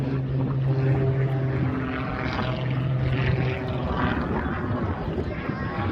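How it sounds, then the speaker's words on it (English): A Mudry competition aerobatic propeller aircraft flying at the Barossa airshow gives a steady, droning engine and propeller tone that shifts slightly in pitch, heard at moderate distance beneath a commentator's voice. "That range of aircraft built by Mudry, they've designed from the outset to be competition aerobatics aircraft."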